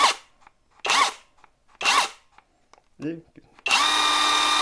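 A LUDYVI BL800 cordless brushless impact wrench whirs in three short bursts, then after a brief pause runs continuously at close range; someone speaks briefly between bursts.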